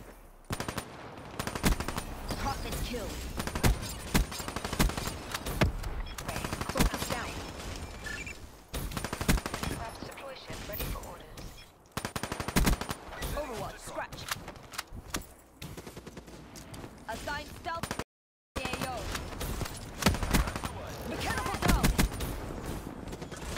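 Video game gunfire: long bursts of rapid automatic shots and scattered single cracks, loud and close, with a player talking over much of the action and a brief dropout partway through.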